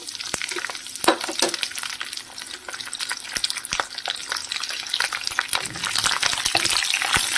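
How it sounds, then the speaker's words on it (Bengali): Chopped onion, garlic and chilli frying in a pan, an uneven crackling sizzle with frequent sharp pops and spatters, fairly close and loud, stirred now and then, without any voices. "এবার পেঁয়াজ আর রসুন লঙ্কা একসাথে কিন্তু একদম লাল লাল করে আমি ভাজবো"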